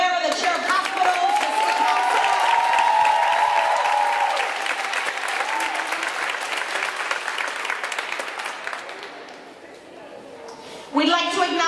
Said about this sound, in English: I want us to all give a round of applause for Councilwoman Carlina Rivera, the chair of hospitals.